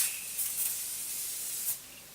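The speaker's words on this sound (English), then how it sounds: "Feels like I'm going to put body spray on my face." Primark makeup setting spray is misted onto a face in short pressurized bursts, a soft airy hiss with a couple of brief pulses, close and fairly quiet.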